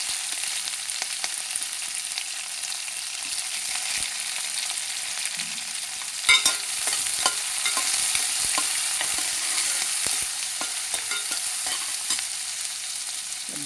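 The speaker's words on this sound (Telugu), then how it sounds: "ఇప్పుడు ఉల్లిపాయలు వేసుకోవాలన్నమాట. అన్నీ వేపించుకోవాలండి." Onions frying in a pan while mutton and vegetables are cooked; a steady, bright sizzle runs throughout, with a few scraping stirs in the middle and later, and no talking.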